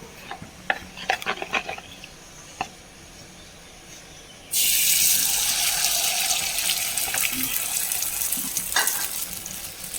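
Korean omelette batter hits a hot iron pan and bursts into a loud, steady sizzle that continues to the end, after several light clinks and taps beforehand.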